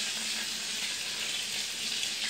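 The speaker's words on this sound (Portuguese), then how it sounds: "E tô fritando os bifezinhos de carne." Thin beef steaks frying in a pan for a simple home lunch, a steady, even hiss of sizzling fat that continues without break, close and moderately loud with no talking.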